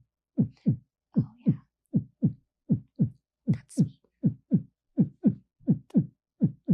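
A voice imitates a heartbeat with a steady run of paired low thumps, lub-dub repeated about ten times in an even rhythm, close and fairly quiet with silence between beats.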